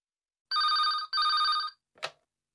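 Two loud bursts of an electronic telephone bell ring in a recorded listening-test dialogue, separated by a short gap and followed by a brief click as the handset is picked up.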